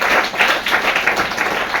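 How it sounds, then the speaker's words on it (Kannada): An audience at a Kannada student quiz programme claps to welcome a contestant: a dense, steady patter of many hands, fairly close, continuing without pause. "ಅವರಿಗೆ ಜೋರಾಗಿ ಚಪ್ಪಾಳೆ ಮೂಲಕ ಅಭಿನಂದಿಸಬೇಕು."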